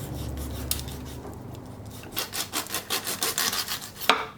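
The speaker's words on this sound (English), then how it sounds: "Now the back fin, I'm just going to trim the fin itself off." A knife trims the back fin off a fresh whole salmon, giving a series of close, rhythmic rasping scrapes and cuts that speed up toward the end, with no talk.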